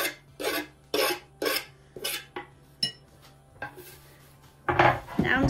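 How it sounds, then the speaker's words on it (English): A metal fork mashes avocado in a bowl for guacamole, a series of close, rhythmic scraping and clinking strokes about once a second, followed by a louder, longer scrape. "just gonna use my fork and mush it up"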